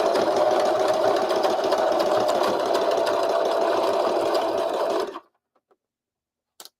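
A sewing machine stitches a jellyfish cover in one loud, steady, rapid run of about five seconds, then stops, followed by a few faint clicks.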